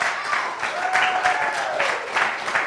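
A church congregation breaks into applause, a dense, steady patter of many hands clapping together, close and fairly loud, with a faint tonal sweep passing through partway.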